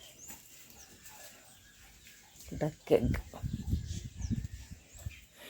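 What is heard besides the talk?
domestic ducks and a mother hen with chicks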